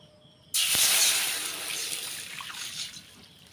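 Water suddenly starts pouring into a pan on a stove with a loud splashing rush, then settles into a softer, steady trickle.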